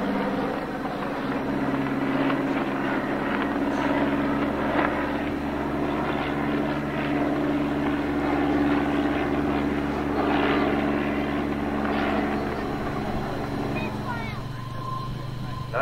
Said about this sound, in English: the visiting aircraft that are now beginning to arrive